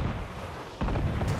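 Ship cannon fire in the naval combat of Assassin's Creed IV Black Flag, a single heavy boom that hits abruptly and then carries on as sustained rumbling blasts.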